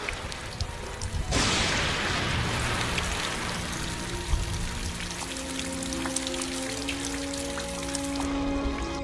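Sudden torrential rain pouring onto an ant nest: after a quiet start a dense hiss of rain bursts in and holds steady, with faint tonal music-like lines running underneath later on.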